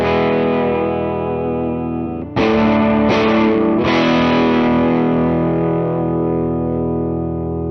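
A Gibson electric guitar with P90 pickups played through distortion, sustained overdriven chords ringing out, then a few hard re-struck chords that decay slowly, loud and close with no talk.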